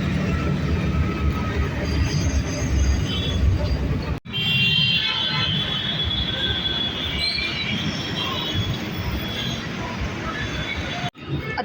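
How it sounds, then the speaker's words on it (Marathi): A metro train runs through a station with loud rumbling wheels and high metallic screeching and squeals, steady and close, with two abrupt cuts in the sound. "आत्ता मेट्रो स्टेशनला पोहोचले."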